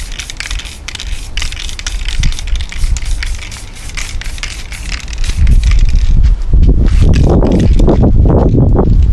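Aerosol spray paint hisses in repeated bursts onto a 3D printed Buster Sword outdoors, short sprays early, then longer, louder continuous passes toward the end.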